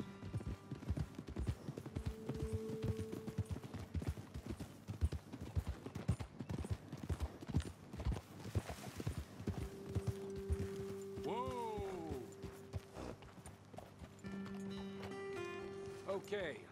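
Steady clip-clop of horse hooves trotting in Red Dead Redemption 2, joined by game music tones and a brief whinny-like sweep partway through.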